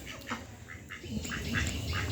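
Several short duck quacks from a few birds, scattered across the clip over a steady outdoor background, moderately close.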